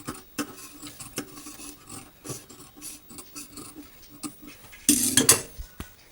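Scissors snip notches into the edges of scrap fabric in a run of crisp, close cuts, with a denser, louder flurry of snipping near the end.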